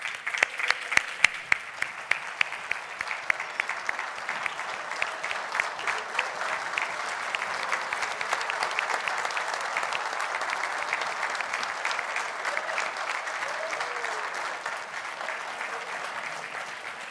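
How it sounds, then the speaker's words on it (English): Graduates and guests at a university spring graduation ceremony give a sustained round of applause, starting with a few sharp claps that swell into steady, fairly distant clapping lasting many seconds before slowly thinning. "join me in a round of applause for"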